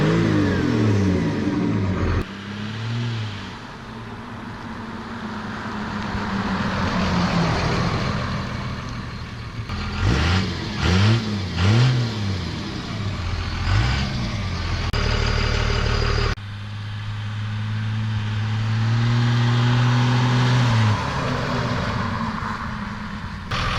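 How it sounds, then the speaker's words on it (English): A 2001 Dodge Ram 2500 with a Cummins 24-valve turbo diesel engine, heard loud and close as a deep idle that swells into repeated revs and rising accelerations, then settles back into a steady rumble. "We're in the 2001 Dodge Ram 2500 Cummins 24 valve turbo diesel."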